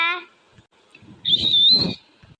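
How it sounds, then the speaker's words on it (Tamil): A kitchen pressure cooker lets out a single sustained high whistle of under a second, clear and fairly loud, with faint household noises around it and a brief voice at the start. "அட கடவுளே குக்கர் இன்னமா விசில் அடிச்சுட்டா கிடக்குது"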